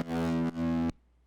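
A single sustained distorted electric guitar note, loud and buzzing with rich harmonics, briefly re-struck midway before cutting off abruptly.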